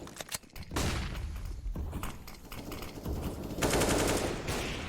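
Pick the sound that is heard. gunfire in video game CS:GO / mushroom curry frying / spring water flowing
gunfire in video game CS:GO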